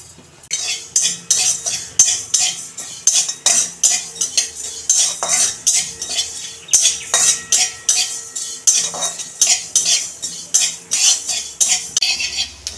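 Whole cumin, coriander, five-spice and dried red chillies fry in oil for mango pickle oil, nearly drowned out by a loud, rhythmic scraping of a metal spoon against the pan, repeating steadily about twice a second, with no voices.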